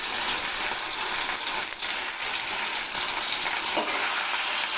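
Tomatoes and washed fresh curry leaves frying together in a pan, a dense, loud, steady sizzle close up with faint stirring scrapes, no voices.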